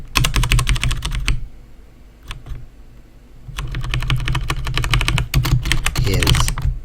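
Fast, steady clicking of keys on a computer keyboard, close by, with a brief pause in the middle before the rapid tapping resumes.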